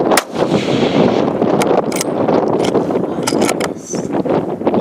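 Sharp rifle reports during a pronghorn buck hunt, several loud cracks cutting through gusty wind noise across the open field, with no talk.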